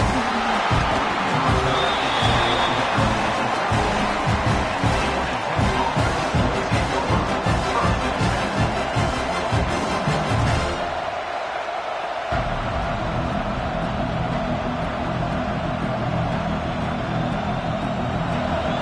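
Stadium crowd at a college football game, Georgia Tech at Oklahoma, a broad steady roar filling the whole stretch with louder rumbling swells early on and a brief dip near the middle, with commentary talk over it.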